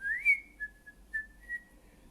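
A single person whistles a short, thin melody of a few sustained notes, quiet and alone.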